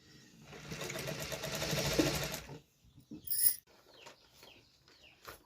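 A sewing machine runs a quick, steady burst of rapid stitches through a blouse for a couple of seconds, then stops. Afterwards only faint scattered clicks and a few chicken-like clucks remain in a quiet room.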